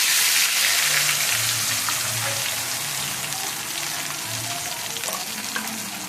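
Blended paste of green chilies and onion frying in hot oil, a steady loud sizzle with crackling pops that eases slightly over the seconds, no voices.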